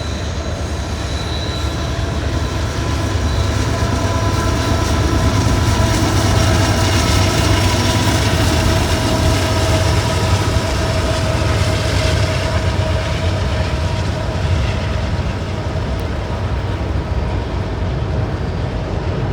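A Norfolk Southern coal train, westbound, passes beneath a large trestle, its steady loud rumble and rolling wagon noise continuing throughout at close range, with a faint squeal on top.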